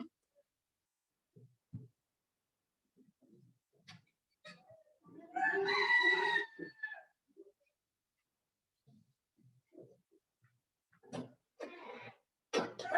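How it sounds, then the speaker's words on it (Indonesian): A rooster crows once, a single drawn-out call that is fairly loud and close, surrounded by quiet scattered small sounds. "Keluruknya jago itu tanda dia lihat malaikat."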